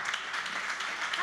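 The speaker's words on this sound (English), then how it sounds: "So please give Nicole a big round of applause." Brief burst of audience applause at an esports panel event, steady crowd clapping throughout, moderately loud and without a break.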